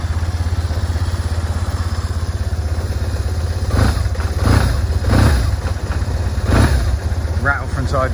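A 2004 BMW R 1100 S Boxer Cup boxer twin motorcycle engine idles steadily with a low, lumpy throb and mechanical clatter, revving briefly a few times; a voice talks over it.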